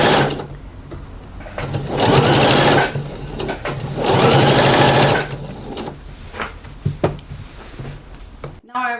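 A sewing machine stitches gathers into fabric for blouse ruffles, running in two long steady bursts and then in short stop-start spurts, close and fairly loud, with a voice talking over parts of it.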